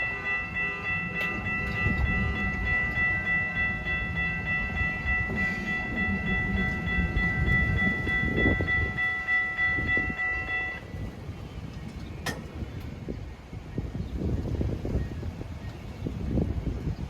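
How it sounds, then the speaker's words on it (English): A TriRail passenger train departs West Palm Beach toward Mangonia Park, sounding a sustained multi-tone horn over a deep rolling rumble that continues as it pulls away. "a TriRail heading out of West Palm Beach to Mangonia Park."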